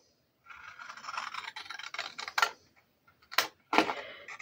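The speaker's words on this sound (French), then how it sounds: "Et là, maintenant, je vais venir couper ça." Blade scraping and cutting through card for a wooden stamp birthday card, a run of close rasping strokes followed by a couple of sharper scratchy cuts after a pause.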